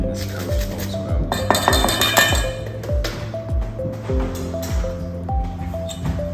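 Fennel coleslaw with mayonnaise and mustard stirred in a bowl, a close series of quick, bright clinks as the utensil strikes the bowl in an uneven but continuous rhythm.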